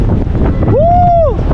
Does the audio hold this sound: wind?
yes